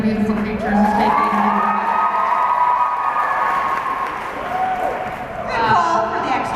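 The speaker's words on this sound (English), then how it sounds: "Good call for the extra clap there." An audience at a teen book festival panel applauds and cheers, a sustained wash of clapping and whoops with voices calling out over it, fading slightly before a final swell.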